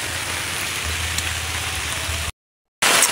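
Steady rain patters and hisses on surfaces at an outdoor spot, with a low hum underneath, a brief total dropout, then the rain resumes loudly.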